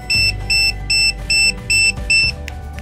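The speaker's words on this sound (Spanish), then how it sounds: "va a empezar a sonar esta alarma" A Bluetooth GPS tracker's proximity alarm beeps six times, high and electronic, in a steady, quick rhythm, clear and close with no talking.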